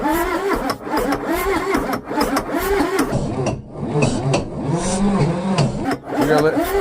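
A Ford 6.9 IDI turbo diesel engine cranks and tries to start, a rough, churning mechanical drone throughout, mixed with people talking over it.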